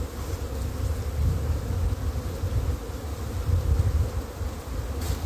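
Honey bees hum steadily around hive frames in a large colony as the frames are unscrewed and set back, a dense continuous buzz close up with gentle swells and no voices.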